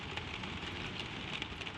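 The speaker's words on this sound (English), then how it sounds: "It is the kind of rain that has settled in for the night, with no wind behind it, no thunder anywhere near." Gentle, steady rain pattering on a roof overhead on a windless night, a soft constant hiss of drops with no thunder, close and even throughout.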